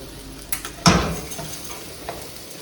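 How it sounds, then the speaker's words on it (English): Barley grains toasting in a pan for a pilaf, a soft continuous sizzle with a sharp scrape and rattle near the start as they are stirred, then a few fainter stirring clicks, no voices. "Then gonna throw it in there for another 5 minutes until the barley is actually toasted."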